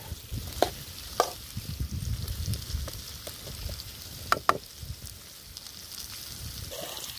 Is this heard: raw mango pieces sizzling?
yes